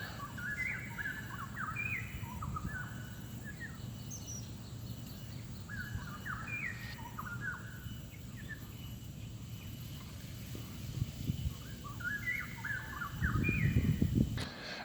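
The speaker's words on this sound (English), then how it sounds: "you can hear the birds." Birds chirp and call in repeated short bursts through seaside trees at Sembawang Park, with a steady low rumble of wind or surf beneath and some rustling near the end.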